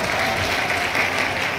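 A crowd at a farmers' expo closing ceremony claps loudly, a dense, continuous burst of applause filling the whole moment.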